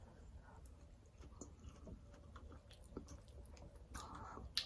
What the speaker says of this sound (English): So let's take a little bite and see what happened here.